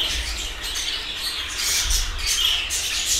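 A budgerigar chick cries in its nest box with a steady high, rasping squawk that runs continuously at close range, and no voices are heard.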